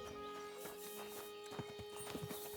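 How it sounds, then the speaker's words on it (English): A horse in the medieval game Kingdom Come: Deliverance 2 clip-clops along at a walk, hooves thudding unevenly, then gives a short whinny near the end, all fairly faint over a soft game ambience. "I like how the horse just appears out of nowhere from behind you."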